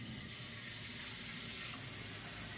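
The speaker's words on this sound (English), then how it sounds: "let me just get some fresh water. Here's some water ASMR for you." Tap water runs steadily into a sink, a continuous close hiss and splash with no talking, while fresh water is drawn for washing a stitched needlework project.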